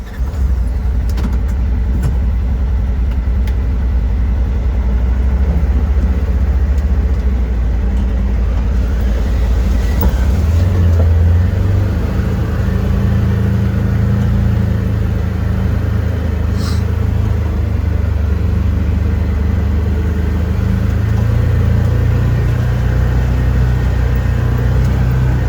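A 2022 Polaris Ranger UTV drives along, a loud, close, continuous low engine rumble with shifting pitch and faint rattles, with no talk.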